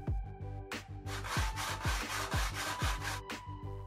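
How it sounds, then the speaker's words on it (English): Edges of acrylic plastic panels being sanded by hand in a DIY computer case build, heard as about seven rhythmic, close rasping strokes in a steady back-and-forth pattern. "I once again cut two pieces of acrylic and sanded the edges."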